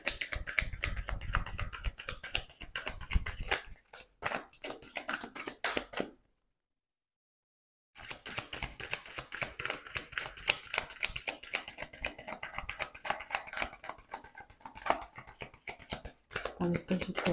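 Tarot cards are shuffled and drawn in a rapid, dense patter of soft flicks and riffles. The sound stays close and fairly quiet, drops into a silent pause partway through, then picks back up, and a voice talks intermittently over it.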